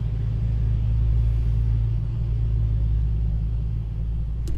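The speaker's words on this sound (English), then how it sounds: "So let's throw this into drive." A Dodge muscle car engine, in a Hellcat and Demon setting, rumbles with a deep, steady low idle as it is put into drive and eased out, loud and close with no talk over it.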